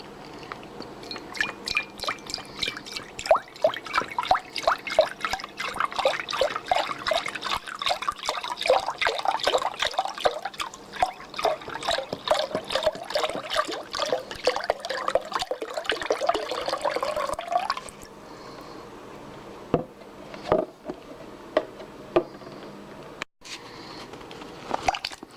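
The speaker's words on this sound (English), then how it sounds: "So first let's begin with pouring our chicken broth." Chicken broth is poured into a slow cooker in a steady splashing stream for about eighteen seconds, followed by a few scattered drips and small knocks in a quiet kitchen.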